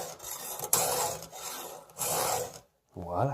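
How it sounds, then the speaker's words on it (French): A metal file rasps across chainsaw chain teeth in long, even strokes, three loud passes with brief pauses, followed by a short spoken word. "Des bons coups de lime, constants."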